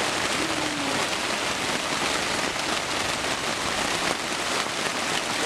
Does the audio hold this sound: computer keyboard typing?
no